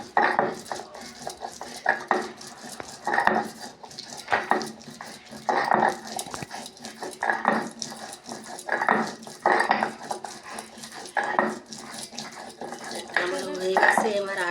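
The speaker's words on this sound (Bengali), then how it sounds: "লঙ্কা আর পেঁয়াজটা বেটে নিচ্ছি শিলে" Chilli and onion are ground on a stone grinding slab with a rhythmic series of heavy rubbing, scraping strokes, repeated steadily at close range, with some intermittent background voices.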